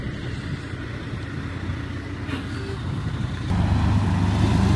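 A dump truck pulls into a work site in Florida on a chilly day, its engine a steady low rumble that grows louder and closer near the end, with faint voices in the background.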